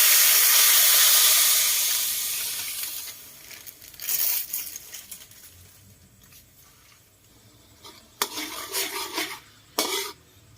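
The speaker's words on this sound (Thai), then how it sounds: "เคี่ยวหัวกะทิให้แตกมันก่อนครับ" Coconut cream simmers in a pan with a steady soft hiss until its oil separates, broken by a few brief scraping stirs.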